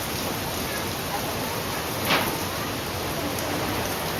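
Rain falls steadily outdoors, heard from a helmet-mounted camera, a continuous even hiss with a slight swell near the middle.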